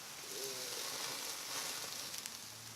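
Food sizzles steadily in a hot, smoking pan as it is flipped over, a continuous close crackling hiss with a few brief sharper pops near the end.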